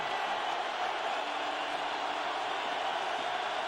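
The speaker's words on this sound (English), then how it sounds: "this crowd lets the Eagles hear it" A Minnesota stadium crowd at a 2008 NFC Wild Card playoff football game lets loose a sustained, dense roar directed at the Philadelphia Eagles, loud and unbroken throughout, with a broadcast voice faintly under it.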